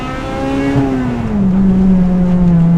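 A Honda Integra Type R with an aftermarket exhaust revs hard to around 8,700 RPM, a loud, close, rising engine howl that sustains and then drops slightly in pitch.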